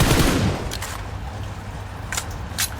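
An M4 automatic rifle in the PUBG video game fires a rapid, loud burst that fades into a grainy tail, followed by a few sharp, isolated shots.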